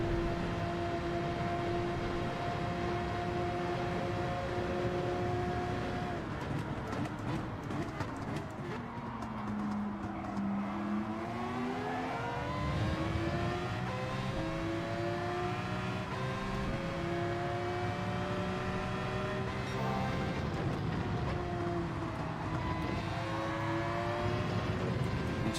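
A Mazda race car engine in Gran Turismo 7 revs and accelerates steadily, its whining pitch climbing through gear changes and sweeping up again, sustained and fairly close without any talk.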